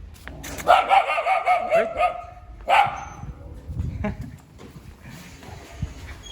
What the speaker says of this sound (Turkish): Köpek hep havlardı yine havlıyor.